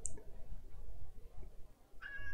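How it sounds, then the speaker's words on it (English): A cat meows briefly, quiet and close, with faint room noise between the calls. "Oh, there's a cat."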